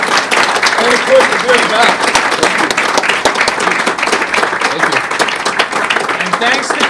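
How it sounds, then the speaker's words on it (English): An audience at a startup networking event claps for a speaker, a busy, loud round of applause with scattered sharp claps, while someone talks over it briefly. "I want to give a big round of applause to Steve for sharing the story with us."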